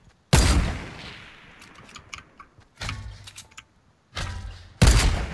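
Sharp sniper rifle shots ring out in a Fortnite battle royale match, three loud cracks with ringing tails spread across a few seconds, the first and last strongest, with faint game noise between.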